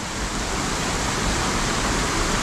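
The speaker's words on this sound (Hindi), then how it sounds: "अरे भाई साहब झरना है देखो" A mountain waterfall on the Rudranath trek in the Himalayas roars as a dense, steady wash of rushing water, loud and close, filling the whole moment with no voices heard.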